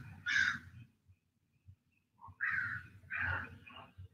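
Crows cawing outdoors, a single harsh call followed after a pause by two more, fairly close against a quiet low background.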